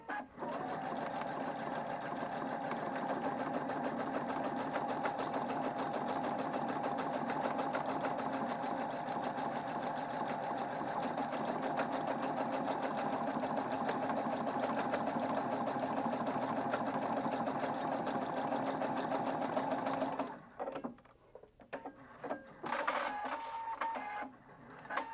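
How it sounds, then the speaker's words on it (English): A Husqvarna Viking Brilliance 75Q sewing machine stitches a buttonhole, a steady close mechanical whir with rapid needle ticking that runs evenly for about twenty seconds, then stops and leaves a few soft handling clicks. "let's go ahead and stitch out that buttonhole"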